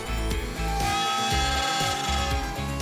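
A machine spindle in a middle school technology and engineering workshop winds up with a loud, continuous whirring hum whose pitch shifts in steps, steady throughout and heard alone with no talking.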